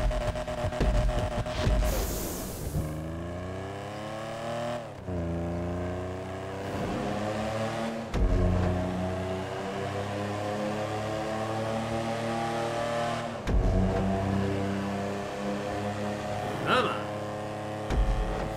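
Turismo Classic sports car engine in GTA 5 Online during a race, a steady loud drone with rising revs and repeated gear-shift drops, continuous throughout.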